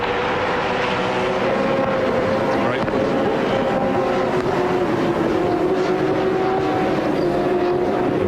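A Holden touring race car at the Sandown 500 gives a loud, sustained engine howl whose pitch shifts as it passes, with a commentator talking over it.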